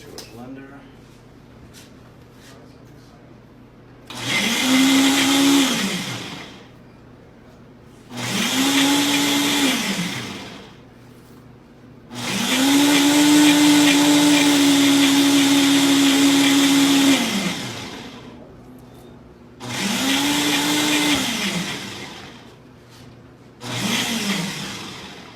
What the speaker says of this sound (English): Attach this to a blender.